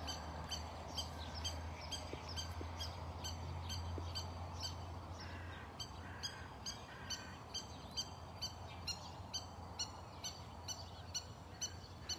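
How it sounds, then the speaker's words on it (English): A bird chirps in short, evenly spaced high calls, repeating steadily over a low background hum. "Her chirping."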